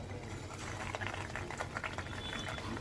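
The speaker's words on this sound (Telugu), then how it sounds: "ఈ ఆయిల్ వేడెక్కిన తర్వాత అందులో మనం రెడీ చేసి పెట్టుకున్న డోనట్స్ని అందులో ఒక్కొక్కటి మాదిరిగా" Mini bread donuts dropped into hot oil and frying, a steady close bubbling crackle with dense fine spatter, moderately quiet and unbroken throughout, with no voices.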